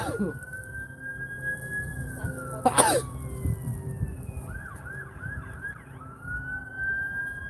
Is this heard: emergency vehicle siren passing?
yes